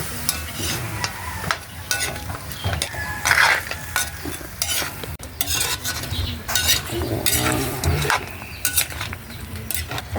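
Spicy native chicken adobo stirred in a hot pan, a spoon scraping and knocking the metal in repeated close strokes over a constant sizzle and frying crackle, no talk.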